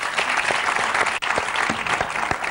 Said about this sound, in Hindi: अब्बास मस्तान जी के लिए जोरदार तालियां हो जाए एक बार।